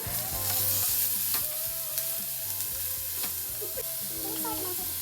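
Noodle masala fries in a pan before the tomato goes in, a steady loud sizzle with scraping stir clicks and a faint ratcheting rattle running throughout, no voices.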